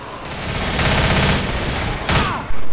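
Rapid bursts of gunfire at zombies in the video game Left 4 Dead, a dense fusillade of repeated shots running nearly the whole time, loud and close, with a sharp louder burst near the end.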